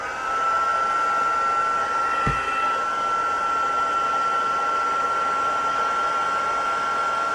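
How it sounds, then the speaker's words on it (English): A heat tool blows continuously over a stamped card, a steady loud whirring hiss with a faint high whine and a brief low thump partway through. "Grab a heat tool."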